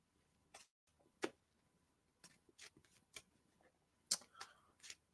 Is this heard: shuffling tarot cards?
yes